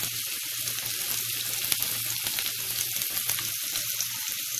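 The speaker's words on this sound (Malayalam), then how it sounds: "അതിൻ്റെ കൂടെ തന്നെ ചെറുതായി അരിഞ്ഞ് ഇഞ്ചി കൂടി ചേർത്തിട്ട് നന്നായിട്ടൊന്ന് വഴിച്ചെടുക്കാം" Garlic and finely chopped ginger sautéing in a hot pan for chicken fried rice, a steady close crackling sizzle with faint stirring scrapes and no talk.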